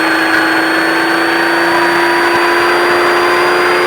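An off-road vehicle's engine at a driving course drones loudly and steadily, one sustained roar that holds its pitch throughout with no talking.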